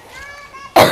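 A girl gives one loud, close cough near the end, after a faint, brief vocal sound.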